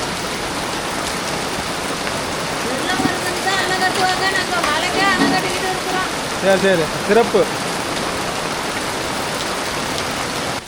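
Heavy rain pours down steadily throughout at an outdoor cooking spot while chicken leg-piece gravy is being prepared, a dense loud hiss with people talking over it in the middle.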